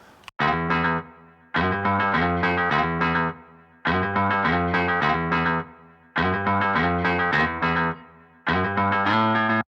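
Distorted electric guitar plays chords in repeated phrases, with a gritty, saturated tone and a touch of modulation, loud and close with no voices.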